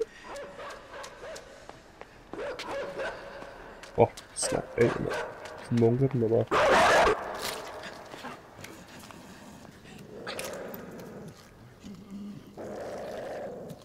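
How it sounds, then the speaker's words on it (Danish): Dogs barking and growling in the side-scrolling video game Inside, bursts of harsh animal snarls and clip-clop-like footfalls mixed with game effects, heard under frequent excited talk from a player. "Jeg fucking hader de hunde."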